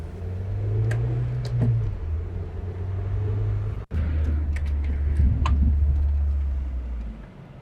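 An old car that has sat idle in a parking lot rumbles as it is started and driven, a steady low engine drone with light knocks and clicks, a brief cutout midway, then the rumble resumes.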